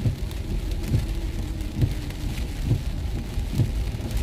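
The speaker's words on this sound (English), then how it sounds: "it's raining pretty hard" Heavy rain pours down steadily and close by, with a soft low thump repeating roughly once a second beneath the hiss; no one speaks.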